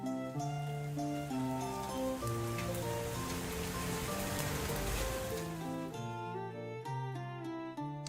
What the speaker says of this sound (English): It always auto plays the rain at the beginning.